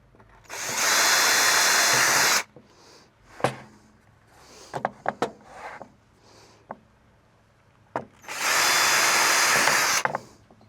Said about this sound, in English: Since I'm drilling these by hand, I am not going to try drilling 2 layers at a time.